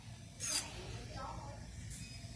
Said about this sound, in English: I gotta use that Crisco can and spray it on you